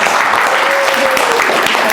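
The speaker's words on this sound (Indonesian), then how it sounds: "Tepuk tangan" An audience at a university lecture claps in a dense, steady burst of applause that carries evenly through the short moment without pause.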